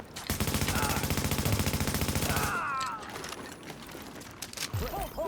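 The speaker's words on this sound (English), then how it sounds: "he's shooting me" Rapid automatic gunfire in a first-person shooter video game, a dense burst of shots lasting a few seconds, then quieter game sounds and a voice.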